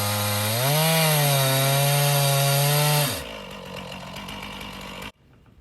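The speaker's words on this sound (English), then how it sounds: "So I'm doing a 2-inch depth cut" A chainsaw milling a cedar slab into 2-inch lumber roars loudly at high revs for about three seconds, then drops to a lower, rougher running sound before cutting off abruptly.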